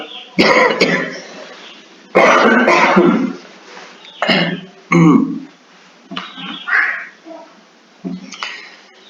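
A person coughs and clears their throat repeatedly in harsh, loud bursts with short pauses between, close to the microphone.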